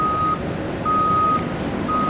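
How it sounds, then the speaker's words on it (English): A construction truck at a heavy-duty trenching site for a water recycling facility moves in reverse while its backup alarm sounds steady, loud beeps over a low engine rumble. "Another truck is coming in, another truck is leaving."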